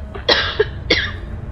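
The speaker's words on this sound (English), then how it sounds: "Sorry, I got a cough." Two sharp coughs from a gamer, close and loud, about half a second apart, with a short throat sound between them and a quiet game background underneath.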